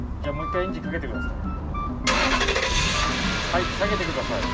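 A first-generation Toyota Celsior UCF11 car engine cranks and starts partway through, then settles into a loud, steady running rumble, with people talking over it before and during the start.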